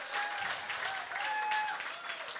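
A gala audience claps steadily and fairly loudly at a charity fundraiser auction, a dense continuous patter of many hands with faint tonal background sounds under it.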